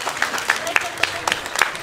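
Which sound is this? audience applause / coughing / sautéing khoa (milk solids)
audience applause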